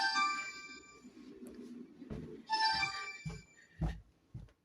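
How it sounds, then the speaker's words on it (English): A phone rings with an incoming work call: a soft, melodic electronic ringtone plays in two bursts, faint and a little distant, amid scattered thumps and shuffling. "That's a phone call from work"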